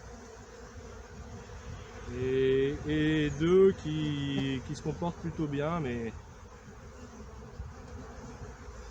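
Black honeybees of the beekeeper's own strain hum steadily around the hive, a low continuous buzz running beneath a voice as he talks.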